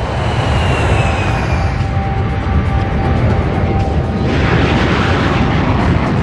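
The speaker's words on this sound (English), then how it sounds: "The B-52 had 8 J-57 engines hanging in double pods below its huge drooping wings." A B-52 jet bomber powered by eight Pratt & Whitney J-57 engines in double pods roars steadily, a loud, dense jet rumble with a faint rising whine, continuous throughout.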